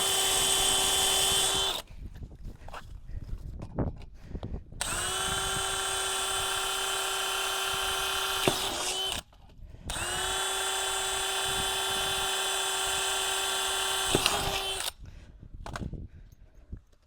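A power drill driving screws while installing a vinyl gate, with two long steady whining runs, each cutting off sharply, separated by short pauses and handling clicks, loud and close.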